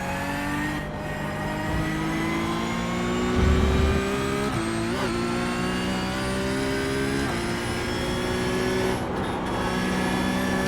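A Porsche 992 GT3 Cup race car engine in iRacing drones loudly and continuously, pitch climbing steadily through the gears with brief dips at each shift, no voices over it.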